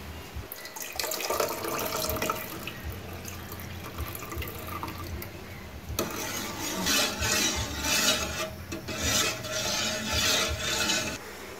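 Coconut milk cooking with jelly in a pot, a steady liquid pouring and bubbling sound that swells and turns brighter and more churning partway through.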